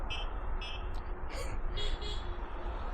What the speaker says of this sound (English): That little electronic little beeping thing, that was me.